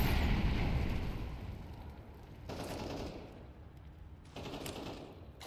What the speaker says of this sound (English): Throwing a grenade. Throwing fire.